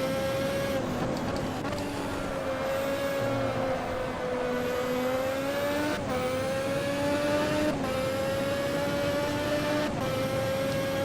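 Engine of a simulated 1988 Formula 1 race car in the Automobilista racing game, a loud, steady high-pitched whine with small pitch swings as it works through gears, continuous throughout while lapping slower cars.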